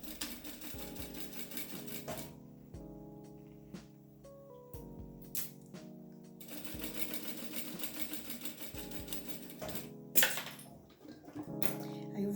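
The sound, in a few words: sewing machine stitching a baby clothes organizer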